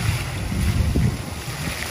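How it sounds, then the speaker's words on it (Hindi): A water fountain splashes steadily at the main entrance of a newly opened Taj Mahal Restaurant, a continuous broadband wash of falling water mixed with outdoor wind noise and a low murmur of gathered crowd. "फाउंटेन वाला सिस्टम है पानी वाला"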